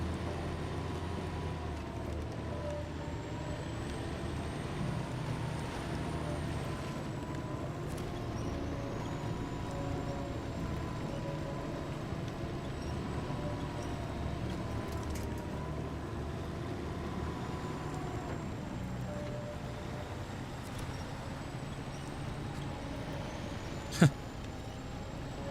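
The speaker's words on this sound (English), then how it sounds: "I had to remember how to drive this truck" A heavy truck engine drones steadily at low volume in the SnowRunner game on Washington terrain, with a continuous rumble, slow pitch shifts and a single sharp click near the end.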